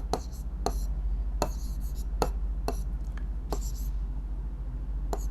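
A pen writes out an answer to a Class 8 Sanskrit lesson exercise, giving a string of short, sharp scratching strokes in an irregular rhythm, close and clear over a low steady hum.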